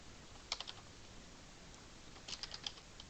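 Computer keyboard clicked in two short bursts of a few keystrokes each while C++ code is entered, quiet and close with silence between.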